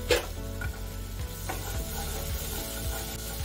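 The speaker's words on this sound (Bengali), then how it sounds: "এবার মশলাটা একটু কষতে হবে। এরকম অবস্থাতে একটু মটরশুঁটি দিয়ে দেবো," Masala with peas being stir-fried in a pan for matar kachori and aloo dum, a steady close sizzle broken by several scraping stirs of a spoon against the pan.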